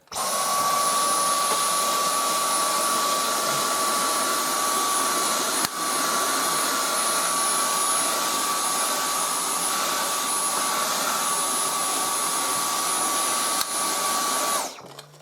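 A Dyson V10 Total Clean cordless vacuum cleaner runs as a hand vac, giving a loud, steady, high-pitched motor whine that holds constant throughout and cuts off abruptly at the end.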